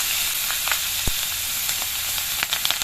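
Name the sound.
black cumin and slit green chillies sizzling in frying oil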